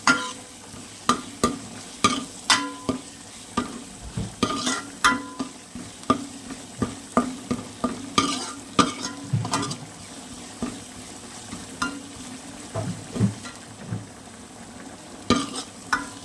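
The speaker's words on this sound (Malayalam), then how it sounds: "ഇഞ്ചി വെളുത്തുള്ളി പേസ്റ്റ് ഇട്ട് കൊടുക്കാം." Ginger garlic paste frying in a hot pan, with steady sizzling under repeated clinks and scrapes of a spoon stirring the mix, close and fairly loud, with no voices heard.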